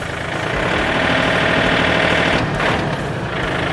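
Steady, loud diesel drone of an Iseki or Yanmar farm tractor, 39 to 42 horsepower, idling with its rear PTO rotary tiller spinning, a continuous close mechanical hum with a brief hiss partway through.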